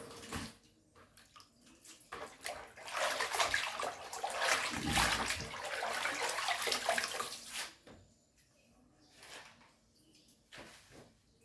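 Pork large intestines washed by hand in a basin of water: close splashing and sloshing swells into a loud, sustained churn for several seconds, then drops back to quieter dripping and handling.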